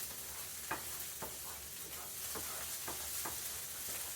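Soft, steady sizzling of sausage frying in a pan, with occasional scraping taps as it is stirred, quiet and close.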